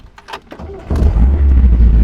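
A 1973 MG MGB cranks with a few clicks, then the engine catches and settles into a loud, steady idle rumble close by.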